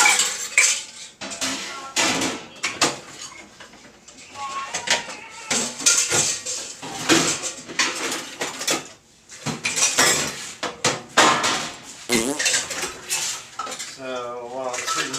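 Dishes and cutlery clatter and clink in a kitchen sink, a steady run of close, loud knocks and scrapes of crockery and silverware with brief pauses.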